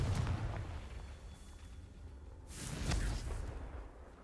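Two booming fiery blasts from the Confringo spell in Hogwarts Legacy. One bursts at the start and another rushes in with a whooshing roar around the midpoint, each rolling off into a low rumble.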